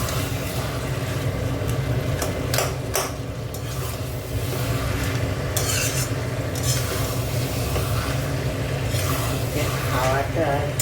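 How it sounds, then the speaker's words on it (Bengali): Vegetables cooked down soft, with a little sugar added, are stirred in a pan. A loud, continuous scraping and rustling churns on with scattered clinks, and voices murmur in the background. "আর একটুখানি চিনিটা দিয়ে একটু নেড়ে"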